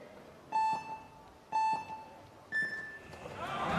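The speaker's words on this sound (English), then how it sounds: "Remember, it's 3 beeps. They have to go on the 3rd one." Three electronic start beeps for a speed climbing final at a 2019 World Cup in Chongqing, evenly spaced about a second apart; the third is higher-pitched and is followed by a rising crowd roar.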